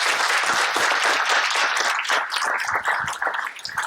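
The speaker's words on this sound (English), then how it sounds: "Please give them a round of applause." A crowd applauds continuously, dense clapping that holds steady and then begins to thin out near the end.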